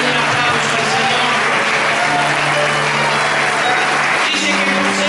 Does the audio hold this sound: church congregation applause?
yes